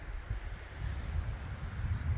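Wind blows across a mountain platform at night, a steady low rushing buffet with gusty microphone rumble.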